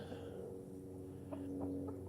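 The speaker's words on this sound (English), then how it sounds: "Look at them happy chickens." Chickens cluck softly nearby, a few short clucks near the end over a low steady background hum.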